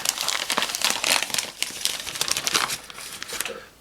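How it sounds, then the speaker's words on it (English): A plastic bag crinkling as a plant sample is placed inside, with close, busy rustling and crackling bursts throughout, no speech. "So I'm going to have to place it in this plastic bag."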